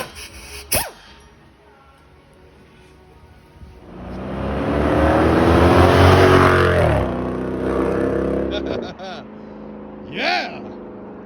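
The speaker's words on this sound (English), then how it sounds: "I think this Durango sound amazing." A Dodge Durango with a Borla exhaust revs up in a deep, loud roar that swells and holds for a few seconds before dropping off, with brief voices and exclamations before and after.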